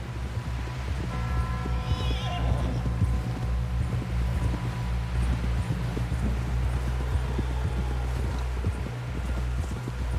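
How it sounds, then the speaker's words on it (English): Steady clip-clop of horse hooves at a trotting rhythm in Red Dead Redemption 2, carrying on throughout over a low hum and faint background sounds. "Someone help John down off this horse."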